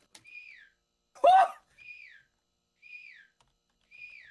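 A person whistles short falling notes in an even rhythm, four repeated phrases with gaps, interrupted once by a brief noisy burst like a sneeze or exclamation, close and clear, set in a horror game.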